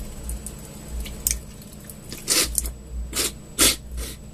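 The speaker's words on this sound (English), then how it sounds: "kind of snort it in, snort it out, then do the other side" Salt water nasal rinse snorted through the nostrils, a few wet, sharp sniffs and snorts at close range, separated by short pauses with faint dripping and squishing.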